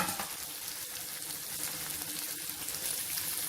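Bitter gourd pieces fry in oil over a medium flame, giving a continuous, bright, close sizzle with no talking.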